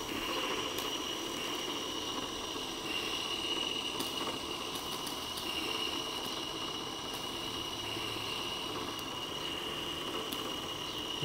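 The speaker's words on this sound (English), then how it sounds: "Okay, the engine's running all right." Live steam coal-fired model locomotive named Russell running under radio control, a steady, even chuffing and hissing mechanical drone that holds for about eleven seconds, with occasional sharp clicks and a faint high whine.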